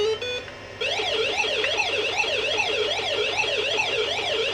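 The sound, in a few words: Pac-Man video game siren sound on Wyse 286 PC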